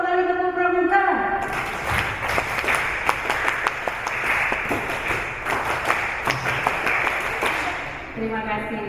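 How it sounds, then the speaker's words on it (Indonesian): A workshop audience beats out the rhythmic scout clap in unison, a dense burst of accented handclaps that runs for several seconds, loud and close. "2 kali tepuk pramuka."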